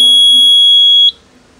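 A Kidde Aries Netlink fire alarm panel sounds a loud, steady high-pitched electronic alarm tone continuously after a manual call point activation, then cuts off abruptly, leaving quiet room noise.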